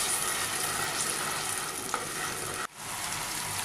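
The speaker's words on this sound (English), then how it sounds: "And now we have to fry these onions till they become" Ground onion paste frying in a pan, a steady close sizzle with stirring throughout and a brief scrape near the end, no voices.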